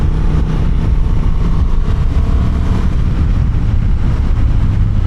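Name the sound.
Honda Transalp 750 motorcycle engine revving high in sport mode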